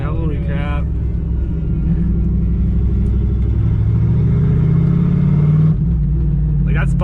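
Volvo with a swapped-in V8 running Holley Terminator X fuel injection accelerates hard on the road, a loud, deep engine roar climbing steadily for several seconds with brief voices at the start and end.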